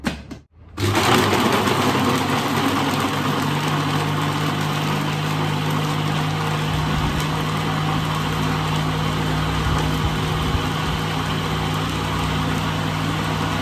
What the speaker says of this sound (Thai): นี่เราก็จะมาปั่นกันแล้วนะคะ